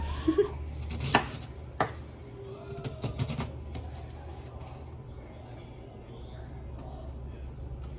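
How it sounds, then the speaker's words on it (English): Sharp knife chops through cabbage hit a board in a few quick bursts, then scattered lighter cuts over a low background hum in a quiet kitchen. "I'm going to cut this cabbage up really good"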